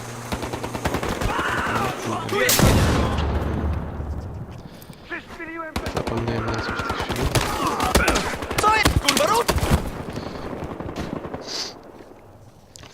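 Gunfire and explosions from the video game Battlefield Hardline, with dense bursts of shots and blasts running loud through most of the stretch, a brief drop in the middle, and someone talking over the action.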